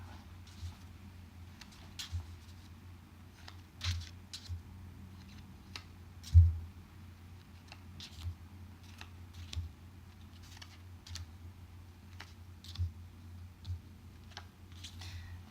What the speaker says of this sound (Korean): 자, 큐비야, 네가 마음대로 카드 놓고 싶은 대로 3개, 3개 해서 가로 3줄, 세로 3줄로 놔봐.